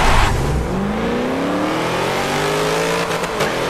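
A VW Beetle racing a Hoonicorn in Forza Motorsport 7, with loud sustained engine roar and rising revs climbing through gears, one engine note sweeping steadily upward, close and continuous.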